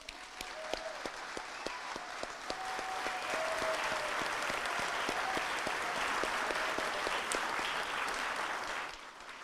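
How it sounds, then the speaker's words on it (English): A large convocation audience applauds nursing graduates as they stand, with dense, sustained clapping that swells and holds steady before tapering off, while a faint tone runs beneath it. "Let's all give them another round of applause."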